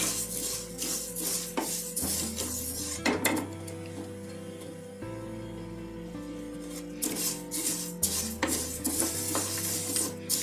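White sesame seeds roasting in a pan over a low-to-medium flame, stirred with a metal utensil: bursts of scraping and clinking against the pan over a light sizzle, with a quieter stretch in the middle.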